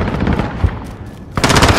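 Rapid automatic gunfire from Call of Duty: Modern Warfare in a shantytown map, dense bursts of loud close shots running throughout, with a sharper, brighter volley kicking in near the end.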